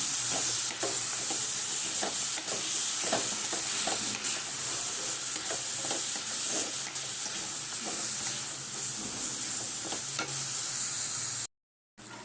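Milk with jaggery is stirred in a pot with a spoon or ladle, giving a regular scraping rhythm over a constant bubbling hiss, close and fairly loud, before a brief cut near the end.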